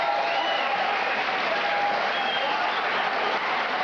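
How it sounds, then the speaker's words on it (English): Boxing arena crowd applauding and cheering steadily between rounds of a lightweight bout, a dense, sustained wash of clapping with no pauses. "So the crowd's alive after an action-packed second round"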